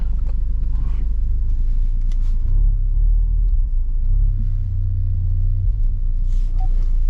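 Low, steady engine rumble from a Ford Focus RS idling and creeping while being parked, close and continuous with slight swells in tone, no talking.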